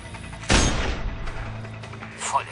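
A sniper rifle fires one shot in the video game Sniper Ghost Warrior 2, a sudden loud blast with a rumbling tail that decays over about a second under low game ambience.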